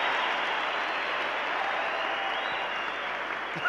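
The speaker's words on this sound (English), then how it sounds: "clap for me because I actually make the effort." A church congregation applauds at a service, steady moderately distant clapping that holds evenly throughout.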